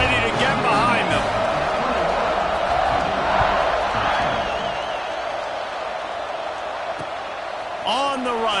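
Stadium crowd at a football game roaring and cheering steadily before a kickoff, a dense loud wash of voices that swells slightly and holds, with a commentator talking over it.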